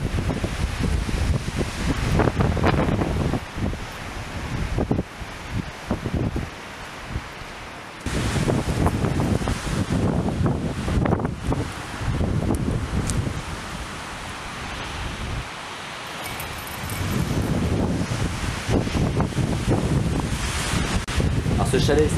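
Strong mountain wind gusts roar steadily around an alpine refuge chalet, the Fuste de l'Étoile, buffeting the microphone in long surges with brief lulls.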